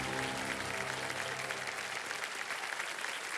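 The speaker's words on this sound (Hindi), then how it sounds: "जोरदार तालियां बजाने के लिए।" Loud, dense applause from a television quiz show studio audience, steady clapping throughout with a busy crowd texture.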